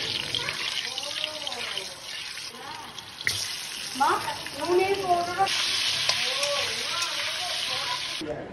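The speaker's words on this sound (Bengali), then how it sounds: "তেলের মধ্যে দিলাম অল্প হলুদ, আর দিয়ে দিলাম অল্প নুন, দিয়ে আমি আলুগুলোকে ভেজে নেব।" Potatoes frying in oil with turmeric and salt, a steady hiss of hot oil under a voice talking through much of the clip, with occasional clinks and a brief stir.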